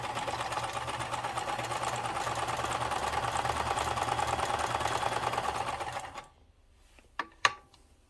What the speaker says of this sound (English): And let's start sewing and see what we get.